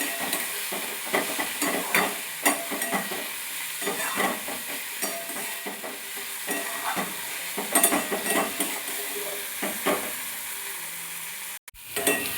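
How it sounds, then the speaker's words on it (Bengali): Spices stirred into onion and tomato in a hot frying pan, a steady sizzle with repeated scraping strokes of a spoon against the pan, close and clear, ending in a brief cut near the end. "মশলাটা ভালো করে পেঁয়াজ টমেটোর সাথে মিশিয়ে নেব।"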